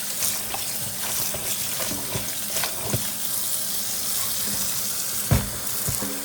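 Water runs steadily from a kitchen tap while cabbage is washed in the sink, a continuous close splashing with occasional clunks and a sharper knock near the end.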